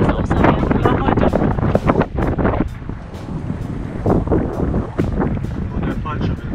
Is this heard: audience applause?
no